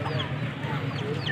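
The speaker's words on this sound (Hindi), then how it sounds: "ये देखें गाइस मुर्गी," Bantam chickens at a Sunday bird market, clucking softly amid a steady crowd hum and low background chatter, with no distinct crow.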